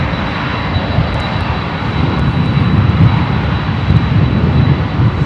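A Lufthansa Airbus A340-600 four-engine jet at Chicago O'Hare during Hurricane Helene gives off a loud, close, sustained engine roar with heavy low rumble and a thin steady whine above.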